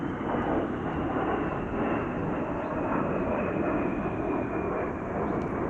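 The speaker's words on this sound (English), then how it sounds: "We have fighter aircraft that just fly right over this place." Fighter aircraft flying right overhead, heard as a loud, steady broadband jet roar that holds throughout without letup, close and dominant with no other sounds standing out.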